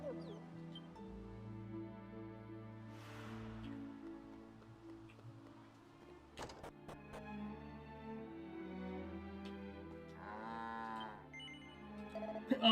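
Cattle lowing in the village of Dragon Quest 7 Reimagined: drawn-out, droning moos over game background music, with one louder call near the end.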